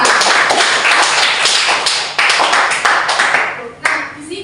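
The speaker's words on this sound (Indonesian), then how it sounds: "Yuk, tepuk tangan untuk kita semua." Close, loud applause from a high school classroom of students during a lesson, rapid clapping filling the room in uneven waves with a brief dip near the end.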